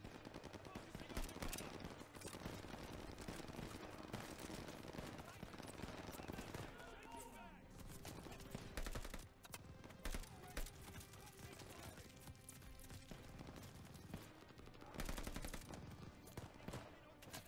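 Sustained suppressive machine gun fire rattles through a Call of Duty Vanguard battle during Operation Tonga, a dense, faint barrage of overlapping shots with scattered louder bursts and occasional voices.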